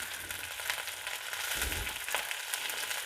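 Green chilies and curry leaves sauté in hot oil for rava kichdi, giving a steady close sizzle and crackle with soft stirring scrapes throughout.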